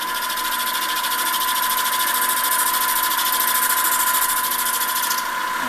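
A mini lathe making an interrupted cut on a collet rack, a steady close machine whine with a fast, even pulsing chatter that holds level throughout and stops near the end.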